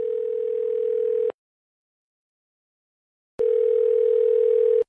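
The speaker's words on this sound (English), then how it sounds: "Hendricks picked up the phone and dialed Chief Brody's home number." A telephone receiver gives a loud, steady dial tone for over a second, then cuts to silence during dialing of a home number before the tone returns, clean and close with no voices.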